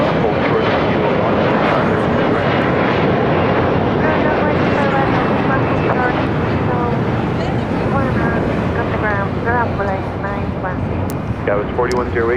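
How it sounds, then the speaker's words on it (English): Embraer E-Jet airliner taking off from runway 25 right at LAX: a loud, steady jet engine roar filling the whole stretch, with wind noise and voices talking over it. "E-Jet now taking off, 25 right."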